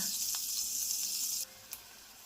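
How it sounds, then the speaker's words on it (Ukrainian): Loud, steady sizzling of vegetable patties frying on high heat in oil and butter, cutting off abruptly partway through, followed by a quieter hiss and a small clink. "Котлети викладаємо на гарячу сковороду і смажимо на високому вогні."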